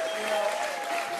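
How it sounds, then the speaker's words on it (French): A television studio audience on a French talk show claps in a dense, even burst of applause, loud and continuous, with a faint tonal hum underneath. "Un premier applaudissement pour mes deux amis"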